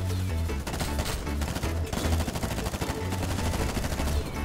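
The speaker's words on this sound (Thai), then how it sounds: "มันยิงกันโหดจังวะ" Dense machine gun fire in the mobile shooter FireFront, a Battlefield-style online 32-versus-32 battle, with rapid bursts rattling nearly nonstop over a low in-game music drone.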